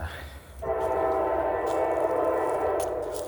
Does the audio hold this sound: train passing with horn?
yes